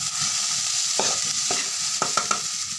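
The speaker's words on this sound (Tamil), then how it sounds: "ரெண்டு நிமிஷத்துக்கு வரைக்கும் கிளறி விடணும் ஏன்னா அடி பிடிக்கும் அதனால கிளறி விடணும்" Potato rice fries in a pan with a loud, steady sizzle, broken by several quick spoon scrapes and taps against the pan as it is stirred, no speech.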